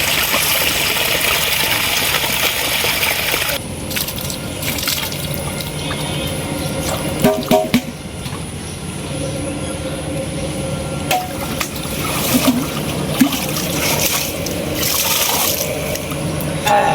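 Freshly caught fish being washed in water, with continuous close splashing and sloshing, a few knocks and shifts partway through, and no talking.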